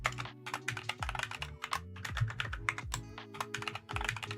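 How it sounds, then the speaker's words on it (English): Rapid, furious typing on a computer keyboard, close and crisp, with bursts of sharp key clacks and heavy thumps of the larger keys in an uneven rhythm, with no talking. "Furious typing noises."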